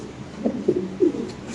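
A single pigeon at a pigeon market gives a short run of low cooing notes in two or three soft pulses, close and alone.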